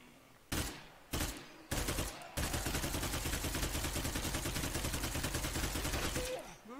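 A large-calibre gun firing in State of Decay 2: three loud separate shots, then a long sustained rapid burst lasting about four seconds before it stops.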